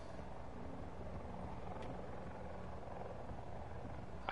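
Helicopter flying overhead in the Black Ops 4 Blackout battle royale game, a steady low rotor drone holding at a constant, fairly loud level throughout with no speech.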